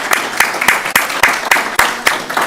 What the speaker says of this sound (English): Let's give them a nice round of applause as they come up to take a photo.